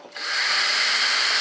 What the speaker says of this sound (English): And I drilled my hole in this wood bigger than I'm drilling this hole.